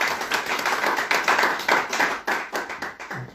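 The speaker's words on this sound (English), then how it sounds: "So please applaud Omid." A conference audience at a tech keynote claps for the speaker, a moderate crowd of hands in an uneven, pulsing rhythm, fairly close and distinct, with no talk over it.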